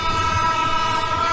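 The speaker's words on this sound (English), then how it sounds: "the horn was blowing" Train horn blowing on a railway line in Thailand, a loud sustained multi-tone blast over the low rumble of the moving train, heard alone without talk.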